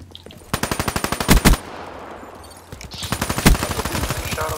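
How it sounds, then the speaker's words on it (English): Rapid automatic gunfire from the Black Ops 3 video game rings out in two close, loud bursts of quick, evenly spaced shots, separated by a short lull. "I shot him as he turned the corner."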